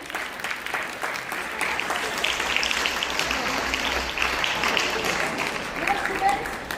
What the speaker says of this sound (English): Welcome them with a great round of applause